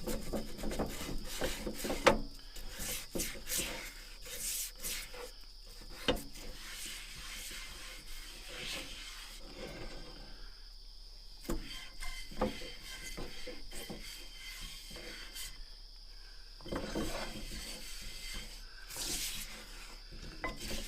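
A small scrubber rubs and scrapes across a hot grill with the heat switched off. The scrubbing is faint and steady, a soft rasping that runs on and off with a few slightly louder strokes.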